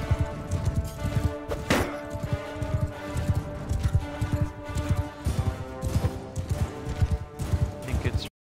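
Horse hooves clip-clop steadily in Mount and Blade 2 Bannerlord, a rapid galloping rhythm with thuds and clatter throughout, loud and close, mixed with battle noise and a voice talking over it.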